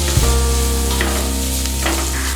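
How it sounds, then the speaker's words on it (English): Spices and onions sizzle in a hot pot for a one-pot capsicum chickpea pulao, a loud, steady frying crackle close up with a low hum beneath and no voices. "Let the spices sizzle for a few seconds, then add the onions and saute until they're soft and translucent"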